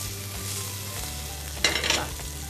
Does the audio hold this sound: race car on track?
no